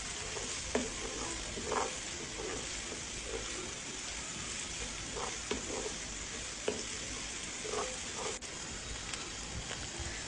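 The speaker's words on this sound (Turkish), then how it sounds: "Kıymamız kızardı." Minced meat fries in a pan with a steady sizzle while a utensil stirs and scrapes it, bringing occasional clinks and louder bursts of crackling.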